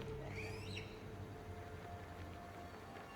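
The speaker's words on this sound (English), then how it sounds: "That sounded like a bird." A short bird call rings out in Dragon Age: The Veilguard: a few quick rising, whistling chirps near the start over a steady low ambient hum, then fading into the background drone.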